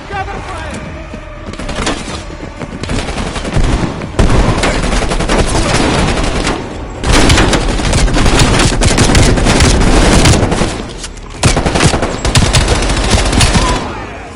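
Heavy, sustained automatic gunfire and explosions fill the Call of Duty Cold War campaign, in dense loud bursts with short gaps, under rushing battlefield noise and shouted voices.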